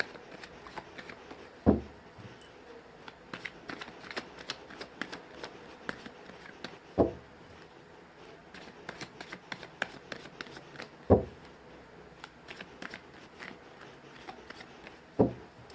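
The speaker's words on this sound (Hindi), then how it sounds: "मैंने कर लिया कार्ड्स की सफलिंग" Deck of tarot cards being shuffled by hand, quiet soft riffling and rubbing with a few sharper taps at intervals, close and alone without voices.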